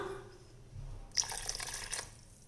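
A short splash of water is poured into wheat flour appam batter, about a second of trickling after a quiet start.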